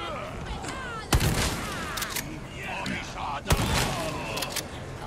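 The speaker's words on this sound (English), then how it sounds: "Pulling out the shotgun now." A shotgun fires twice in the Resident Evil 4 Remake video game, two sharp loud blasts about two seconds apart. A person talks over and around them, and in-game action sounds run throughout.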